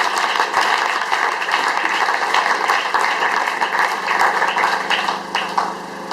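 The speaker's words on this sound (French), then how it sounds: "Acclamons fort la parole de Dieu." A church congregation bursts into applause, a dense, steady wash of clapping that fills the space for the full stretch, loud and sustained, easing slightly at the end.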